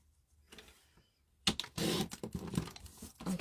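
Paper being cut to 3 by 3 for a small handmade mini album, with faint scraping at first, then a louder run of crisp crinkly snips and rustles close up, no voices.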